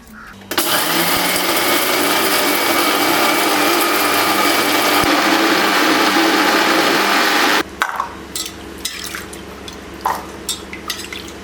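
A mixer grinder runs loud and steady, whirring as it grinds dry-roasted spices for a village-style country chicken curry, then cuts off abruptly, leaving scattered faint clatter and handling noises.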